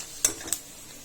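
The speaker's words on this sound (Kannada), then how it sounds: "ಅಕ್ಕ ಬಾಳೆಕಾಯಿ ಪಲ್ಯ ಮಾಡ್ತಾವಳೆ ಅದಕ್ಕೆ ಒಗ್ಗರಣೆ ಹಾಕಿದಾಳೆ" A faint, steady sizzle from spices tempering in hot oil in a pan, broken by two quick metallic clinks of a utensil.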